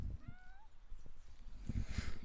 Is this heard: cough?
no